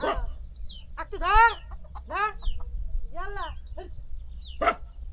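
Chickens on a remote river island squawk and cluck in agitated bursts after spotting a jackal, several loud calls spaced a second apart over low outdoor background noise.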